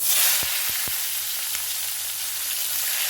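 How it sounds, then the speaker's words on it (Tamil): Loud, steady sizzle of a large chopped onion frying in hot oil in a kadai, with a few sharp crackles early on over a continuous hiss. "இப்போ கடாயில் எண்ணெய் விட்டுக்கலாம் ஒரு பெரிய வெங்காயம் கட் வச்சுருக்கேன் அது போட்டுக்கலாம்"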